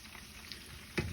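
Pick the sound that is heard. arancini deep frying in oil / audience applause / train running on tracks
arancini deep frying in oil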